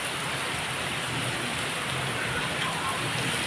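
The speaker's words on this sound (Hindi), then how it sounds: "मस्त बारिश हो रही है" Heavy rain falls outside in a dense, continuous hiss, steady and loud throughout with no pauses or voices.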